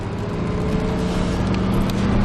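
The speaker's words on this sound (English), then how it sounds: "listen to that motor purr" A car engine hums steadily and fairly loudly while climbing a rocky hill road, a continuous low drone with road rumble and no voices.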